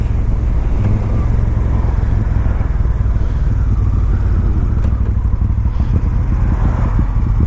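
A 2013 Moto Guzzi California motorcycle on the move, its engine a steady low rumble heavily mixed with wind buffeting against the microphone, loud and continuous throughout with no talking.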